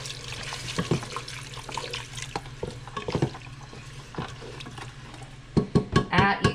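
Food gets rinsed under a running kitchen tap, a steady stream of water splashing with soft clattering and stirring sounds, growing louder and splashier toward the end.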